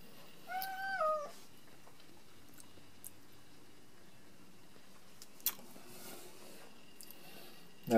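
A cat lets out a single short, faint crying meow near the start, followed by a quiet room with a few small clicks and taps.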